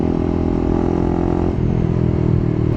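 A Honda CBR150R motorcycle with a dual overhead cam engine and 6-speed gearbox runs close by, its engine droning loudly and steadily with a slight change in pitch midway.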